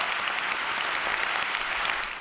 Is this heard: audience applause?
yes